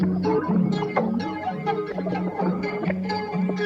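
A looping guitar phrase with a gentle cassette-style warble and wobbling pitch, steady and full, playing alone without any voices.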